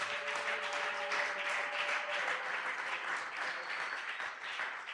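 Worshippers at a Sunday church service applauding vigorously for Jesus, a full, even roar of clapping with a little cheering mixed in, holding strong throughout.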